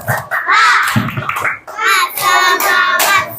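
A third-grade class chants the 'tepuk semangat' rhythmic clapping routine together in a classroom, loud children's voices chanting in unison with sharp claps mixed in.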